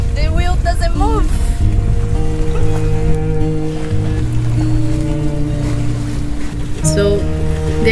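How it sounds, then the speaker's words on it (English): A sailboat under way at sea gives a steady rush of wind and water close by, with no autopilot installed, while people talk over it throughout. "First time sailing this year."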